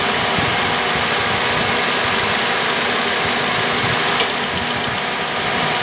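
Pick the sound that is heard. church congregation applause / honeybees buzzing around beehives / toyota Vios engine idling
toyota Vios engine idling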